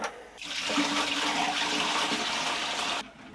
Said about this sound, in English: And I'm going to add my water.